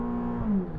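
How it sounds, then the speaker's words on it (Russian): A McLaren sports car engine idles and rumbles steadily up close, its pitch rising slightly as it settles, loud and alone with no talk. "заводись, Макларен"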